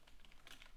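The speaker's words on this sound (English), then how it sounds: "just typing" Quick, light clicks of typing on a computer keyboard, soft and close, in an irregular run of keystrokes with no talking.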